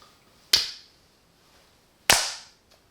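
Two sharp, isolated claps ring out about a second and a half apart in a quiet room, each a crisp, close hand strike with a short decaying tail and silence between them.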